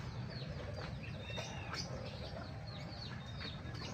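Chickens of a new breed being raised in a backyard cluck and call steadily over a dense, noisy outdoor background, with scattered brief chirps and no pauses.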